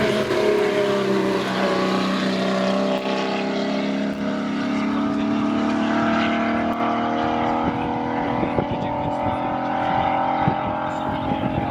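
A 1984 Jaguar XJS race car powers up the Simola Hillclimb, its engine drone rising steadily in pitch as it accelerates, loud and continuous throughout.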